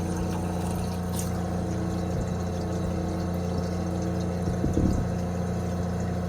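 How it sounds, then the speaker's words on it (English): Water poured into a reverse osmosis system aboard a boat, a steady trickling flow over a constant low pump-like hum, fairly close, with no talk. "So I'm going to put water in again."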